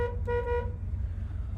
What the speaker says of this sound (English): let's start with the horn